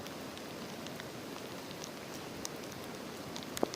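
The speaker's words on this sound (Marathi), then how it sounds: "जोरदार पाऊस आणि पाण्याची पातळी एकदम वाढत चालली" Steady heavy night rain pours down in a dense, even hiss beside the flooded Godavari River in Nashik district, with a few sharper drops and patters standing out near the end.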